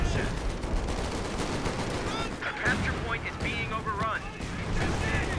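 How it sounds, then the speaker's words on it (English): Artillery and gunfire from a Company of Heroes 2 battle, with a light artillery barrage falling on a garrisoned building, rumbling steadily through the clip under continuous commentary speech. "Light artillery barrage in the garrison."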